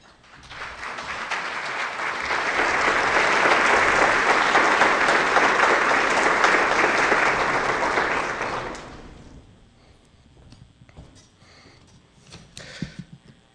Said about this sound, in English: Let's give Dr. Lane another round of applause for being with us tonight.